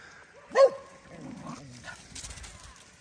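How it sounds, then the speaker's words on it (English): Several dogs bark near a lake or pond, one sharp loud bark followed by fainter yips and growls, with some background noise. "you see how vicious these dogs are"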